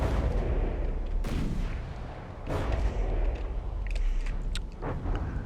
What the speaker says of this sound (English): And continuing to fire with the 6 inches.